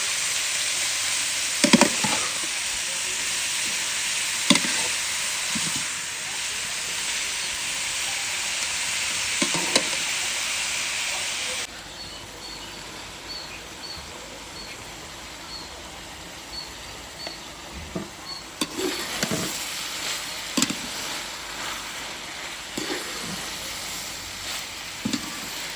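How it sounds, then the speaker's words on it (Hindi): Onions frying in a pan at home, a bright steady sizzle with occasional stirring clatters and scrapes, dropping quieter midway before the sizzling and stirring pick up again. "अभी प्याज फ्राई कर रही हूँ"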